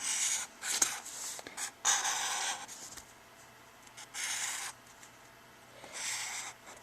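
A pencil scratches across paper in short strokes and pauses, quick bursts of close, dry scraping separated by quiet gaps.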